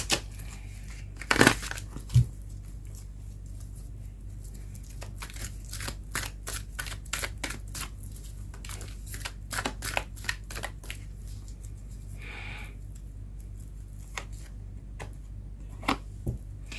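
Tarot cards are shuffled and handled at close range, producing a long series of crisp flicks, riffles and taps. The sounds come in irregular bursts, with quieter pauses between them and no talking.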